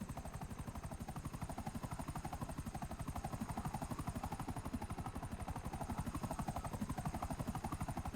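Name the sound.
helicopter flying in GTA Online video game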